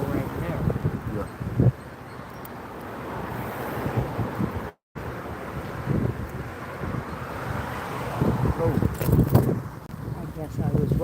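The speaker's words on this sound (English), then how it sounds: "Too much wind. On a windy day, you can't use it." Strong outdoor wind buffeting the microphone on a windy day, a steady broadband rumble and roar with gusts, with speech mixed in and a brief dropout midway.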